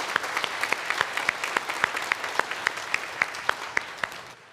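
A church congregation claps for its ministry workers and Sunday school teachers during a worship service. The applause is moderately loud and steady, with sharp individual claps standing out over the crowd's clapping.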